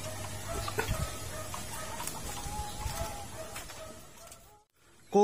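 Young chicks cluck and peep steadily among the flock while being given vitamin powder mixed with eggs, a dense chorus of small calls with faint background noise, ending in a brief silence and a sharp sound.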